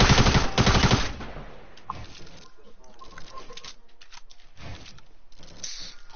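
Rapid gunfire from the video game Fortnite, a loud burst of dense shots at the start, then scattered shots and game sounds continuing more quietly under the rest.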